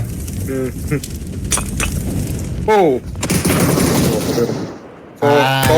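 Bursts of PUBG gunfire ring out in rapid cracks and short automatic volleys, loud and close amid game noise, with tonal in-game effects between shots during a PC tournament match.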